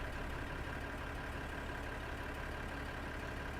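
A tractor engine idles in Farming Simulator 2015, a steady low rumble that stays even and continuous from start to end with no voices.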